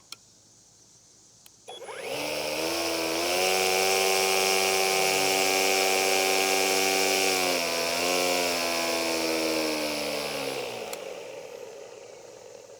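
An Ego 15-inch battery string trimmer, model ST1523S, starts up and runs with a loud, steady whirring whine close by, briefly dipping in speed, then spins down to silence; no one speaks.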